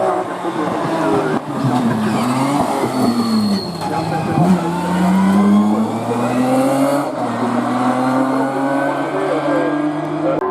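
BMW 535 race car with a 3.5 engine launching up a hill climb course, its engine note rising and falling through gear changes at close range, loud and continuous under French commentary.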